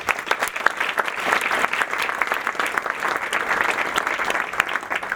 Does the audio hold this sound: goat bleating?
no